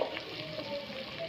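Chopped onions tipped into hot oil for a gongura chicken curry give off a steady, soft sizzle that holds evenly at low level, with no talking over it.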